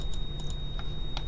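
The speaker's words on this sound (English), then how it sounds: "I'm driving it with the keyboard at the moment" Computer keyboard keys tapped while driving a TransBus ALX400 double-decker bus in the OMSI 2 bus simulator: a few sparse, light clicks spread irregularly over a low, steady cab hum, with no talking.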